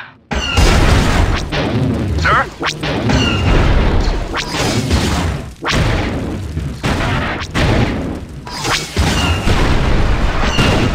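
Star Wars: Galactic Battlegrounds space battle: dense, loud weapons fire and booming explosions crash one after another without pause, layered into a continuous barrage with sharp bursts throughout.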